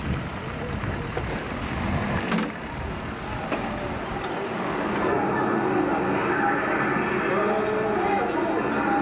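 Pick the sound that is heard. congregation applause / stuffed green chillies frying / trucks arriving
trucks arriving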